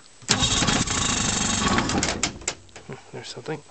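A beat-up 1957 Evinrude 18HP electric-start outboard motor cranks, catches and runs roughly for a couple of seconds before sputtering and fading. Someone speaks briefly near the end.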